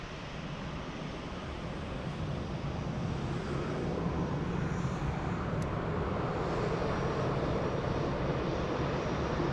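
A Lufthansa Cargo aircraft at Frankfurt airport produces a steady, broad engine roar at moderate distance, continuous and slightly building across the stretch, with no voices over it.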